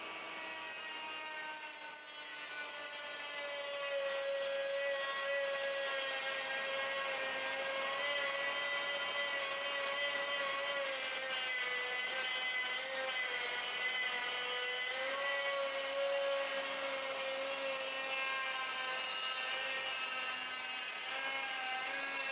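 Parkside Performance PPWSA 12 small angle grinder cutting through hard floor tile, a loud steady high-pitched whine that holds its tone throughout with no pauses and no talking.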